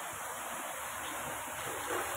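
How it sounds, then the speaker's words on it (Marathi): Heavy rain falls steadily during a monsoon day at a home kitchen, a dense continuous hiss with no gaps and no voices. "आज आमच्याकडे खूप पाऊस आहे. दिवसभर पाऊस चालू आहे"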